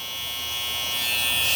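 Electric shaver buzzing steadily while trimming stray hairs on a client's face during a barbershop high taper cut, a close, continuous high-pitched whine that swells slightly toward the end.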